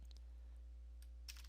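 Keys on an HP Victus laptop keyboard tapped to type a command, a few faint, sparse clicks close by in a very quiet room.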